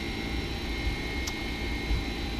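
Jet airliner engines held at takeoff thrust in the X-Plane 11 flight simulator, on a Boston to Heathrow flight; a steady, loud broadband roar with a constant whine runs unbroken throughout.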